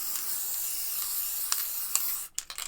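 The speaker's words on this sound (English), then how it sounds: "I'm using the Pearl Diamond sparkle spray" Pearl Diamond sparkle spray hisses from an aerosol can in one long continuous burst, close and loud, then cuts off into a few short clicks and rattles.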